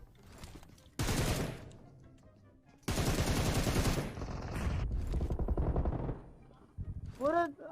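Gunfire in the mobile battle game PUBG Mobile: loud, close bursts of rapid automatic fire with pauses between, plus a short rising electronic tone near the end, while people talk excitedly over it.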